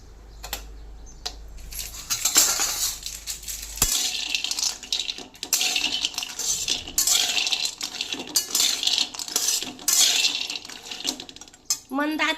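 Cashews and almonds are stirred together in a pan, giving close, busy clattering and rattling of hard nuts against metal in repeated bursts, with a soft rushing undertone.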